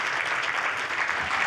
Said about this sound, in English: Clap, clap for Jesus.